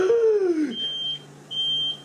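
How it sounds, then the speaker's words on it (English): Beeping alarm from a pressure cooker in a home kitchen, heard as two clear high electronic beeps, each about half a second long, separated by a short pause. A voice sounds briefly at the start, and quiet room noise runs underneath. "I don't know if you can hear me over the alarm."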